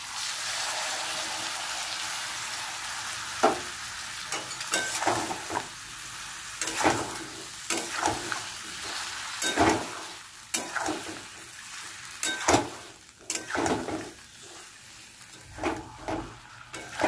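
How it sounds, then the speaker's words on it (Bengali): Vegetables and spice paste being sautéed for a kakrol (spiny gourd) and potato curry, a steady close sizzle broken by repeated scraping stirs of the spatula in the pan, with no talking. "আমার কষানো হয়ে গেছে, আর একটুখানি কষাবো।"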